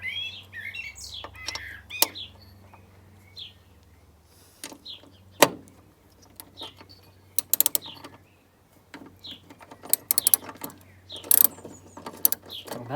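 Ratchet clicks as bolts are loosened on a £500 Mercedes SLK while working on the fan control module, with sharp metallic bursts and pauses, birds chirping in the background.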